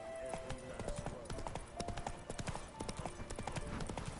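Geralt's horse Roach galloping in The Witcher 3, rapid rhythmic hoofbeats pounding continuously at close range with a faint voice underneath.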